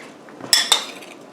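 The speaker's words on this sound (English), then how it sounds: "We'll just cut one open just to test her out." Cutlery clinks twice against a plate, sharp and close, as a cooked homemade beef dumpling is cut open, in an otherwise quiet kitchen.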